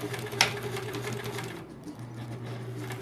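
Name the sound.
sewing machine stitching appliqué on a quilt block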